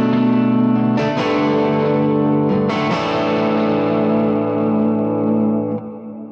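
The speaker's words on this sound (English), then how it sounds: "this is how it sounds when you turn my pedal board on. It has a compressor on at the beginning and a little bit of a delay and reverb" Electric guitar played through a Line 6 Helix preset with compressor, delay and reverb: loud sustained chords restruck a few times, ringing out smoothly with a lingering echo tail before fading at the end.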